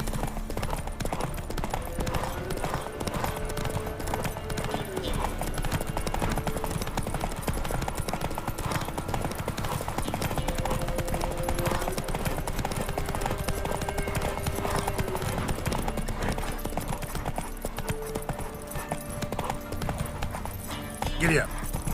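Horse hooves clip-clopping at a steady trot in The Witcher 3, a continuous rhythmic beat under ongoing game sound, with occasional voices and a faint whinny.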